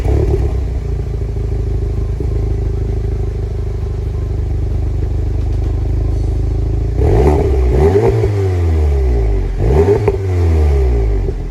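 Inline-4 engine of about 290 horsepower with the resonator deleted idling with a deep, steady drone, then revved in three sharp throttle blips that rise and fall quickly, loud and close.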